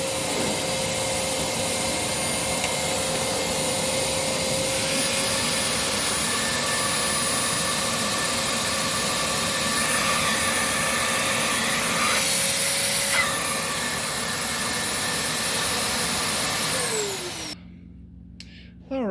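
A Riccar R30D vacuum cleaner runs in hose mode with its brush roll off, giving a loud, steady, close roar with a whining hum that holds for about seventeen seconds before it cuts off.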